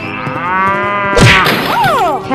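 A cartoon cow moos in a 3D animal slide video game, with a loud, drawn-out moo ringing out near and clear, broken midway by a sharp whooshing thwack.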